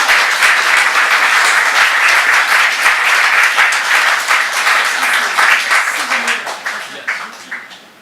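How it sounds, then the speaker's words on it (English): Dense applause from a lecture audience welcoming Professor Michael DeGolyer, a loud steady wash of clapping that holds for several seconds before thinning and fading near the end. "please give a big round of applause to Professor DeGolyer"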